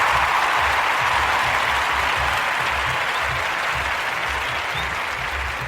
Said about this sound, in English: Dame get a round of applause, man.